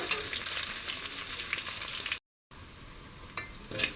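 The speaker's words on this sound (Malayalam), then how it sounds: "ഇതെല്ലാം കൂടെ നമുക്കൊന്ന് നന്നായിട്ട് വഴറ്റിയെടുക്കാം. ഒരു ചെറിയ ബ്രൗൺ കളർ ആവുന്നവരെ നന്നായിട്ടൊന്ന് വഴറ്റിയെടുക്കുക." Onions and dried red chillies sautéing in hot oil for a horse gram stir-fry, giving a steady broadband sizzle with stirring scrapes, a brief gap of silence, then more sizzling and spatula clatter toward the end.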